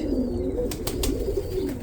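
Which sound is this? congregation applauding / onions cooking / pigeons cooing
pigeons cooing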